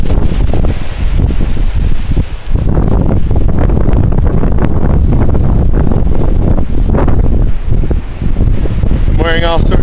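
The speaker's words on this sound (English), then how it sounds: "You can take a look at these gusts here that are blowing" Strong wind gusts roar and buffet the microphone during the 2011 Chicago blizzard, a loud, continuous rushing with surges that swell and ease across the clip.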